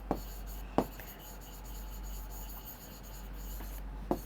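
Chalk or marker scratching across a board during a maths lesson, a quiet continuous rubbing with a few sharp taps of contact, close and alone without talk.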